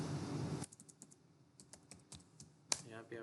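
Typing on a computer keyboard while writing Python code, a sparse run of light, close key clicks at an uneven pace, with a voice speaking before and after.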